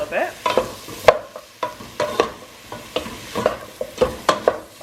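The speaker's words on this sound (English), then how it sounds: "you're gonna go ahead and stir everything up, and you're kind of letting it stir fry a little bit" Garlic and vegetables stir-frying in a pan for a vegan dinner, a soft sizzle under frequent sharp scrapes and clacks of a utensil stirring in irregular bursts, close up, with no talk.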